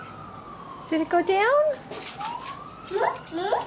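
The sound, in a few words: siren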